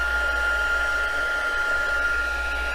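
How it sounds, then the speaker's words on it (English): Heat tool blowing hot air to dry ink on a vellum card, a steady close whooshing hum with a constant whine, continuous and unbroken throughout. "But as you know, with the heat tool, it'll dry faster."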